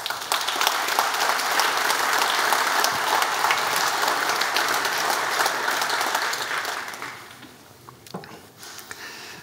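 Audience at a New Year's address in Steenbergen gives sustained, dense applause that holds steady for several seconds, then thins and fades out toward the end with a few scattered claps.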